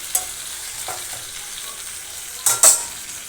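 Spice paste frying in oil in a pan for a vegetarian cauliflower and potato curry: a continuous close sizzle broken by a few sharp stirring scrapes, louder toward the end.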